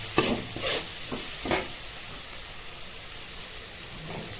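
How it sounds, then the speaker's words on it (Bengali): Cauliflower frying in a pan with Kashmiri red chili powder, a steady hiss of sizzling oil broken by a few scraping stirs early on, moderately loud with no talking. "এরপর এটাকে ভালো করে ভেজে নিতে হবে।"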